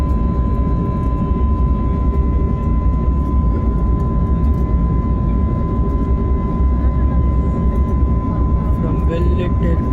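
Airbus A320 airliner in flight during a left bank at night, its steady loud cabin engine roar and airflow rumble continuing throughout, with faint talk underneath.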